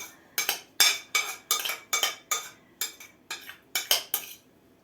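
A spoon or other cutlery clinks repeatedly against a dish or pan while pie filling is spooned onto puff pastry for a holiday pie, with about a dozen sharp, close metallic taps in an uneven rhythm and no talking.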